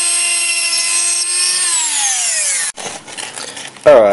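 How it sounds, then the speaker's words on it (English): A power tool whines at high speed while machining away a metal lug on an electric scooter motor controller. The pitch slowly drops before the tool cuts off abruptly, leaving scraping noise and a brief voice at the end. "Basically you've got to machine it away enough so that you can get a spanner on it"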